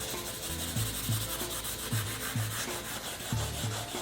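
Sanding leather right beside a stitched seam, a steady close scratchy rubbing with rhythmic back-and-forth strokes, moderately quiet and uninterrupted, no talk.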